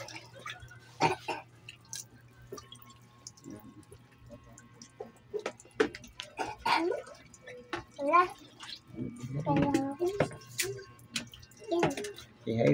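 Water splashes and drips in irregular bursts, poured from a container over a dog during a bath, with a person speaking softly between the pours.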